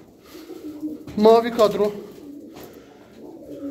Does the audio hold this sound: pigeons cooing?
yes